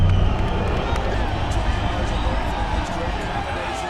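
A boxing arena crowd cheers ahead of a Manny Pacquiao fight, a broad roaring wall of voices and clapping that starts loud and eases slightly toward the end.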